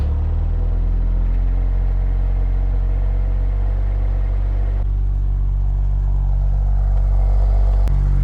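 An Audi RS5's engine switched into dynamic mode gives a loud, steady low rumble that rises slightly in RPM, close and continuous, with a brief click near the end and no talking.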